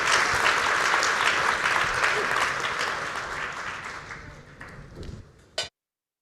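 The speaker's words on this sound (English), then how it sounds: "Let's give these folks a wonderful round of applause for all their insights today" Sustained applause from a conference audience, loud and dense for several seconds, then thinning and fading before a brief final burst and an abrupt cutoff.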